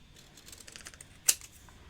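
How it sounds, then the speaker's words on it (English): Scissors snip once through patterned craft paper while a rectangle gift box is being assembled, a single sharp, close cut standing out after some quiet paper handling. "just cut it out with our scissors"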